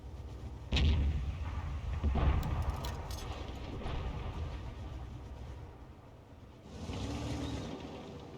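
Tank gun firing a shell in World of Tanks, a heavy booming shot followed by a second blast and rumbling echoes, then a later swell of engine and battle noise.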